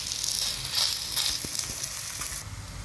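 Dhapate, a mixed-flour Marathwada flatbread, cooking in oil on a hot pan, giving a continuous soft hissing sizzle with a few faint taps, close and even, no voices.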